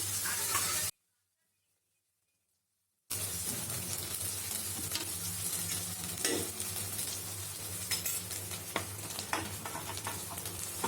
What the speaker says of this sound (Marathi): हे आधी लाल फ्राय करून घेऊ।